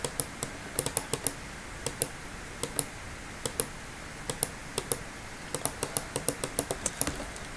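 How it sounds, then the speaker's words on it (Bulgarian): A worn computer mouse clicks during a Skywars game, sharp close clicks in an irregular pattern with occasional quick doubles and bursts, over a faint steady background hiss and no talking. "Ако чувате мишката ми, тя вече е за фърляне."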